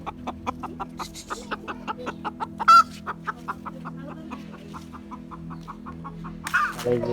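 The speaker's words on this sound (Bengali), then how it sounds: "আর এই যে আমাদের মুরগি আছে, এটাকে আটকে রাখা হয়েছে।" A penned hen on a farm clucks in a steady run of short, rhythmic calls, close and clear, with one louder squawk partway through and a brief flurry at the end.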